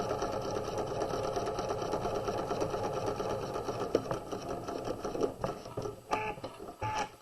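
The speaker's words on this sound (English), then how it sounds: "I'm going to back stitch, and then I'm going to sew" Sewing machine stitching a pillow seam at a quarter-inch allowance with a back stitch, a close steady whirr that slows into a few short bursts and clicks at the end.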